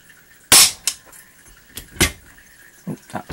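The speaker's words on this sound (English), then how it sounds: "Try one of these Crossman dome pellets. And shoot it across the screens." A Shanghai 61 air rifle fires a Crosman dome pellet with a sharp, loud crack, followed by a few fainter clicks and knocks from handling the gun.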